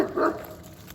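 A single short, muffled bark from a big dog, heard at a moderate distance with faint background noise after it.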